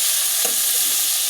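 Chopped tomatoes fry in a pan for a fish curry, giving a bright, steady sizzle with a brief scrape of stirring partway through, close and alone.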